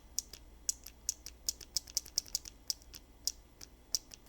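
A 3D-printed void switch with a magnetic washer inside is pressed over and over, giving a quick run of bright, snappy clicks at close range, with no voices.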